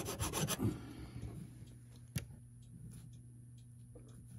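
A clock bushing is rubbed down by hand with a flat piece during clock repair. A few quick, raspy rubbing strokes sound up close at the start, then it falls to near silence with a faint single tick.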